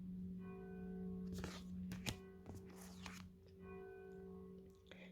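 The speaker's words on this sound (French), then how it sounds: "on entend les cloches de mon église qui est juste en face de chez moi" Church bells from a church directly across the street ring faintly in the distance, with a few soft strikes heard indoors beneath a low steady hum and occasional nearby tapping.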